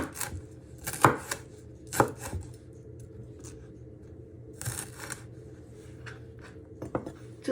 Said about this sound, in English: you just want to slice them into little pieces